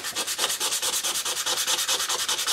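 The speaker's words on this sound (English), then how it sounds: "you want to sand it using some 400 grit sandpaper" Sandpaper of 400 grit scrubs back and forth across an oxidized copper circuit board, a rapid, regular rasping stroke repeated about ten times per second, close and loud with no talking.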